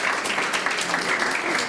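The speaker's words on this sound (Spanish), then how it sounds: "Así que un aplauso grande, me daría un aplauso también." Audience applause at an official anniversary ceremony in Chillán, Chile, honoring a mother chosen as best of the education sector; dense, steady clapping from a crowd fills the moment, fairly close and even throughout.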